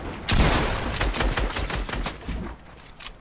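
Midas's drum gun firing in a video game, a loud rapid burst of close shots that rattles on for a couple of seconds before trailing off.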